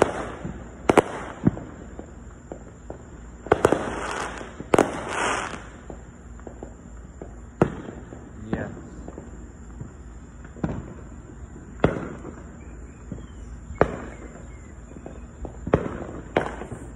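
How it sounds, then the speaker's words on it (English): Fourth of July fireworks bursting in repeated sharp bangs and crackles spread over several seconds, some loud and close, others fainter, with a steady background hum between explosions. "Those are amazing fireworks,"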